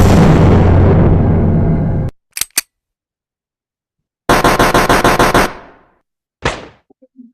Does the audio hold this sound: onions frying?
no